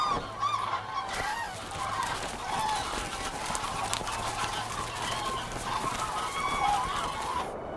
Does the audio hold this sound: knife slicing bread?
no